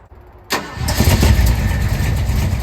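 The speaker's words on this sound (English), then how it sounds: "Let's fire this thing up." A project car that a previous owner abandoned cranks and catches at about half a second, then settles into a steady, loud, close idling engine that runs to the end.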